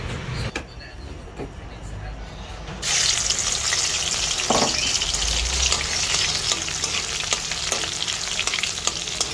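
Spring onion hits hot oil in a pan with garlic and tomato, bursting into a loud, steady sizzle close by after a few quieter clinks, with a little stirring mixed in.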